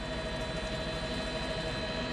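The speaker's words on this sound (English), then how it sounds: "The police helicopter's just arrived." A police helicopter hovers overhead during a Houston police chase, a steady droning whir of rotor and engine noise, continuous and fairly loud throughout with no voices.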